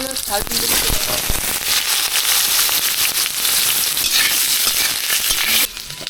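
Eggplant drops into hot oil with black cumin, bursting into a loud, dense crackling sizzle that holds steady, with a voice talking over the frying at the start.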